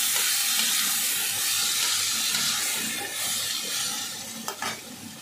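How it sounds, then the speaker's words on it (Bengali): Cauliflower and nearly boiled potatoes stirred in a pan, with a constant loud sizzle and hiss and a few light scrapes near the end. "আলু অলমোস্ট সেদ্ধই হয়ে গেছে, একটু নেড়ে ছেড়ে নেব।"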